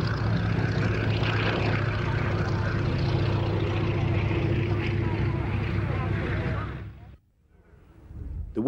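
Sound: propeller aircraft flying at Duxford air show

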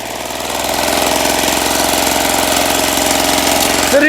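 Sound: old walk-behind tractor engine running

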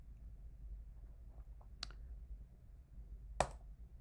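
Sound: mouse click

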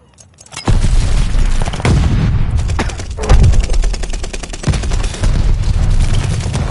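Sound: sniper rifle gunfire in the video game Call of Duty: Vanguard

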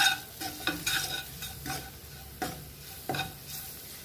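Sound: sautéing chili powder in a pan for Kerala egg curry

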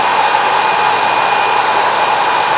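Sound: hair dryer running

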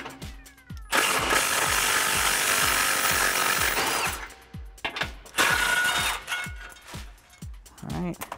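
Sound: removing 15 mm bolts from F150 factory skid plate

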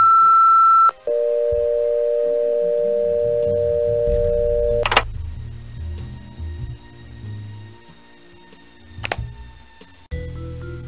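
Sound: answering machine tone in Nancy Drew video game

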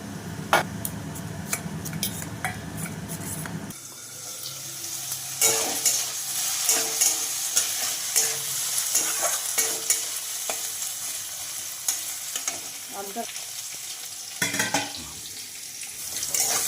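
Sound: potatoes frying and being stirred in a pan

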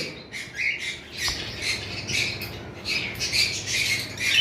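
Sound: lovebird and other pet birds squawking in a bird shop

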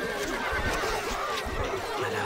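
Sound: horse neighing in video game Stronghold Crusader HD

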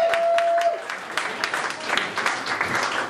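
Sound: comedy club audience applause

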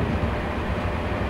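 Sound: freight train passing in the Open Rails train video game

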